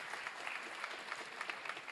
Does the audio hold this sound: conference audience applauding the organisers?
yes